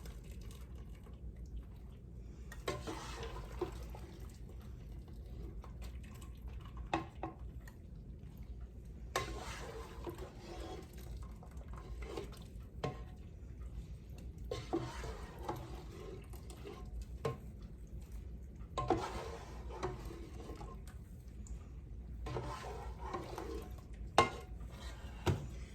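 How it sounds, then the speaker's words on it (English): Pasta being stirred into sauce in a pan with a spoon, heard as soft, intermittent scraping and clinking bursts against a quiet background, fairly close and faint. "Stir it around a little bit"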